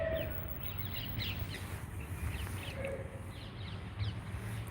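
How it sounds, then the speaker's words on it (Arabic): Small birds chirp outdoors, a scatter of brief high tweets and calls repeating over a low background rumble, faint and at a distance. "شتو العصافير تزقزقو"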